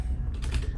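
Brief typing on a computer keyboard: a few quick, close key clicks over a low background hum.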